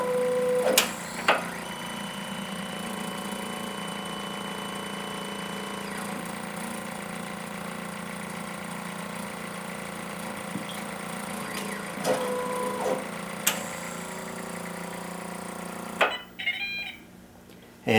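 An automated sample applicator hums steadily at close range while its mechanism moves back to the front and the syringe does a final rinse, with occasional clicks and brief motor whirs before a louder shift near the end.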